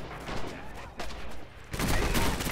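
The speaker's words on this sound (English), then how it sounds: "Shit, that's an MG!" Machine gun bursts in the World War II shooter Red Orchestra 2 on a snowy Winterwald map, a dense crackle of gunfire that swells louder near the end amid a chaotic battlefield din.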